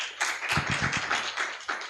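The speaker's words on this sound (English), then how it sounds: "A round of applause for James." A small audience at a data summit in Kisumu gives faint, scattered handclaps, with a quick cluster of claps in the middle of a brief, quiet burst.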